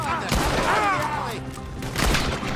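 Gunfire from the video game Red Dead Redemption 2 comes as several sharp shots and bursts mixed with game sounds, while a player talks over the action.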